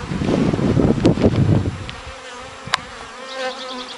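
Honeybees buzzing around a hive while a new queen is introduced, a dense close drone at first that thins to scattered buzzing, with a sharp knock partway through.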